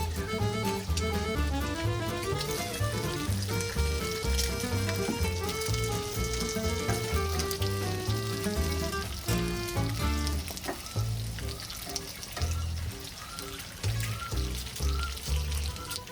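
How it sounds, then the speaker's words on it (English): An English breakfast fries on an American barbecue in a Queensland backyard, with a steady sizzle and crackle throughout, partly masked by tonal music playing over it. "Cooking an English breakfast on an American barbecue in a Queensland backyard facing a mango tree."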